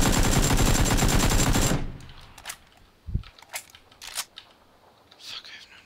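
Sustained rapid gunfire from a shooter game on a desert map rattles loudly for almost two seconds and then cuts off. A few faint clicks and thuds follow.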